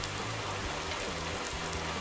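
Steady, loud rain hisses across a farm in a farming game, a continuous wash of drops with a low engine hum running underneath.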